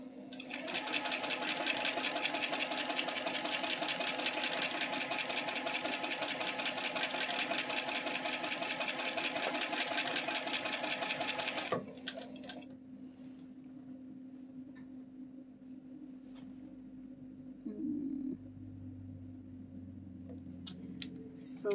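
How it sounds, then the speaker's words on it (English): A domestic sewing machine stitches fabric in a steady, rapid mechanical whir for about twelve seconds, then stops, leaving a faint motor hum with light clicks and handling sounds. "I'm going to sew a couple of stitches before I stop at the bottom"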